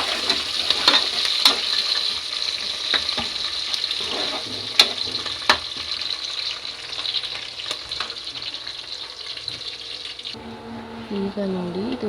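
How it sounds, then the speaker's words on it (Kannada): Soya biryani ingredients frying in oil, a loud continuous hiss with frequent scraping and clinking stirs of a spoon against the pan, ending in a brief quieter stretch. "ಈಗ ಚೆನ್ನಾಗಿ ಫ್ರೈ ಮಾಡ್ಕೊಳ್ಳೋಣ"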